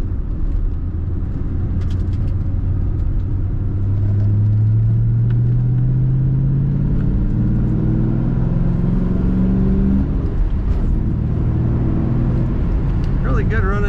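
A 1999 Ford Mustang SVT Cobra convertible engine rises steadily in pitch as it accelerates around a circle, a loud low rumble building over several seconds with a faint voice in the background.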